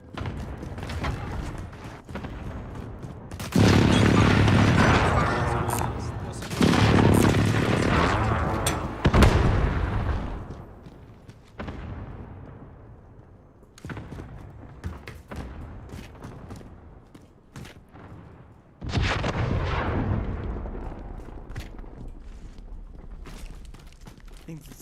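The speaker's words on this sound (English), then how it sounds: "Enemy precision airstrike." Enemy precision airstrike in a video game, a run of heavy booming explosions that hit in loud separate bursts with quieter rumbling gaps between them.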